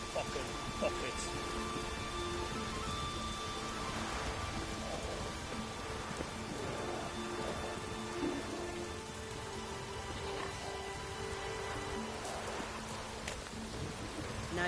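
Heavy rain pours steadily in The Witcher 3, a dense broadband hiss with occasional rumbles that may be thunder, while voices talk over the downpour throughout.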